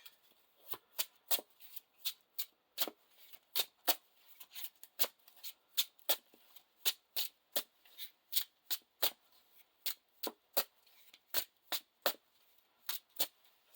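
Lord of the Rings card game playing cards are shuffled over and over, each riffle a crisp, sharp burst repeating at a steady pace, close up and fairly quiet.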